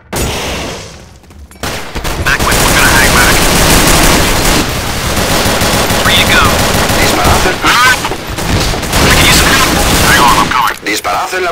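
Dense video game gunfire in a firefight between Metrocops and enemies, with continuous automatic bursts and sharp shots that run loud and close for most of the stretch, mixed with game noise, and voices speaking over it.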